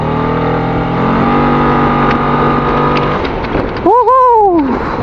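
A SYM ADXTG 400 scooter accelerates hard in a 0 to 100 run, its engine drone rising steadily under loud wind rush, then surging with a sharp rising-and-falling pitch sweep near the end.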